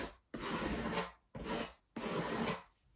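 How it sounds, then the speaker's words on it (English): A scraper drags filler smooth along a wall edge while hanging removable wallpaper in a camper, three long rasping strokes separated by short pauses, close and clear with no talk. "And I want to scrape it down"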